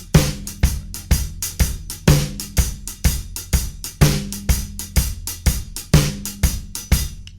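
A drum kit plays a steady halftime shuffle groove with the backbeat on beat 3, punchy kicks, a heavy backbeat and swung cymbal strokes repeating evenly, up close and with no voices.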